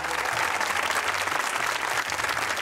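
Audience at an Eid mushaira breaking into a burst of hearty applause, dense steady clapping filling the hall for a few seconds.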